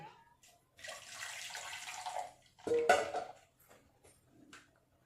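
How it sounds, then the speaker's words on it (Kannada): Water poured into freshly made beetroot juice in a kitchen, a soft splashing pour for about two seconds followed by a brief louder splash and faint drips, near and quiet. "ಸ್ವಲ್ಪ ನೀರು ಹಾಕ್ತೇವೆ ಇದಕ್ಕೆ."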